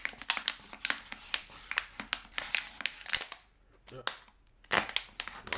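A knife slices through a plastic water bottle with a rapid run of sharp crackling snaps and crinkles, close and loud, with a brief pause before the cutting resumes.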